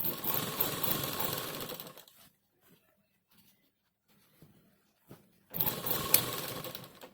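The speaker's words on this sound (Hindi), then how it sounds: "इसी तरह रखते हुए सिलाई लगानी है।" A domestic sewing machine stitches elastic in a steady, loud whir that runs for about two seconds, stops for a quiet stretch with faint handling noises, then starts up again near the end.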